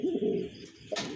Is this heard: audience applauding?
no